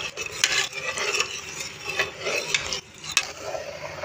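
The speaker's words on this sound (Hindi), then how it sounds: "ताकि आटा हमारा अच्छे से निहारी में मिक्स हो जाए" A spoon stirs flour paste into beef nihari in a cooking pot, giving close, steady scraping and swishing strokes with soft clinks against the metal and a faint sizzle underneath, with no one speaking.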